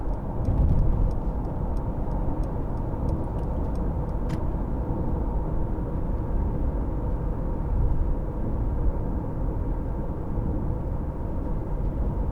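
Interior of a 2015 Mercedes-Benz C-Class on the motorway, a steady low road and engine rumble with broadband tyre noise, a few faint ticks early on.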